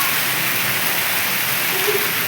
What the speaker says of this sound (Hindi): बारिश देख लो कितनी तकड़ी हो रही है।